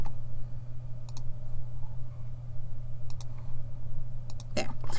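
A computer mouse gives a few faint, sharp double clicks while a circuit is drawn in LTspice, spaced a second or two apart beneath a steady background hum and someone talking.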